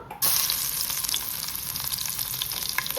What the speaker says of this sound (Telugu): తాలింపు వేసేసుకున్నాము. దానికి గార్లిక్, ఆవాలు, మినపప్పు, జీలకర్ర